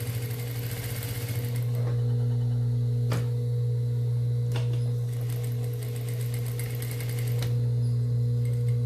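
A sewing machine runs steadily through fabric, backstitching a seam, with a loud continuous motor hum and rapid needle clatter, broken by a few sharp clicks and brief pauses, with no talking.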